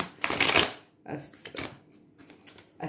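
Tarot cards shuffled by hand, a close series of crisp riffling bursts of varying length separated by short pauses.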